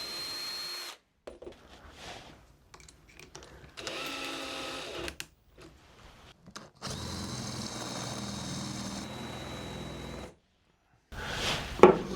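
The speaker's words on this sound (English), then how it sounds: "I'm just going to get a couple of marks put on the ends so I can drill it out" A power drill whirs in several short and longer bursts while drilling holes, separated by brief pauses, fairly quiet with a steady motor whine.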